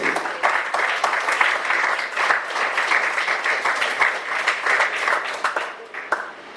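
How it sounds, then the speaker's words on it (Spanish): Church congregation claps in loud, sustained applause during a church conference session, with dense, rapid hand claps that swell and then taper toward the end. "Denle palmadas de aplauso al Rey que vive."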